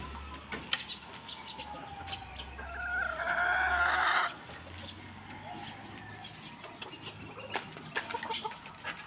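A white Kelso gamefowl rooster crows loudly and close for about two seconds amid scattered clucking and chicken calls, with a low hum and occasional background voices.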